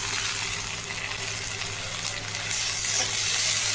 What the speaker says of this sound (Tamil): எல்லோரும் நல்லா வந்து வதங்கட்டும்.